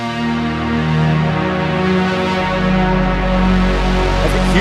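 Huge Cloudform synth patch in Unify built on an oscillator node, a dense sustained tone with a sweeping, swelling low end that grows as it plays, loud and alone.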